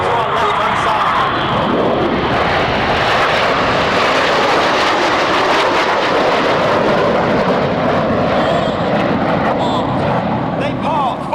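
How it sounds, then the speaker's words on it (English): RAF Red Arrows jets roaring through a flying display at RIAT 2024, a loud continuous engine rush trailing smoke overhead, with a commentator talking over the noise throughout. "Red 9 climbing up, smoking the red, the white and the blue, followed by Enid going off to our left-hand side"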